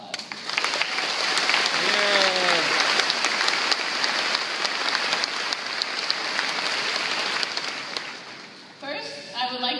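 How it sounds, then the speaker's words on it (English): A graduation audience for the class of 2015 gives a sustained round of applause, dense and even like rain, with a brief voice rising over it near the start and again at the end. "Let's give ourselves and all of our supporters a round of applause."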